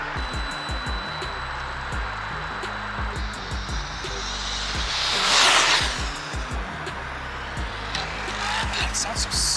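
A Traxxas TRX6 RC 6x6 truck on a 6S battery runs nearby with a high electric motor whine that swells and fades, over rattling drivetrain and ground noise, and people can be heard talking.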